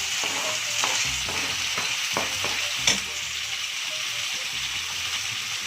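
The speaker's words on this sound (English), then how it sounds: "And now I'm gonna add my onion." Chopped onions frying in a pan for an Indian-style pasta, with a steady sizzle throughout and scraping stirring strokes at intervals, one sharper clack near the middle; no talking.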